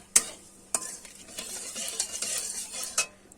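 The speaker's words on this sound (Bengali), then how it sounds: "ফোড়নে কিন্তু আমি চিনিটা দিচ্ছি কিন্তু কালারটা হওয়ার জন্য" Sugar dropped into hot oil with cardamom, cinnamon and cloves as the tempering for a soybean dhoka curry, giving a close, steady sizzle broken by a few sharp clinks of a spoon against the pan.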